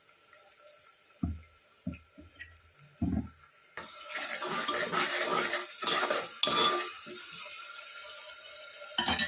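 Utensil scraping and stirring as paste is added to golden fried onions in a pan for mutton curry, with a few isolated clinks at first, then a continuous busy scraping and sizzling texture, close and moderately loud, no talk.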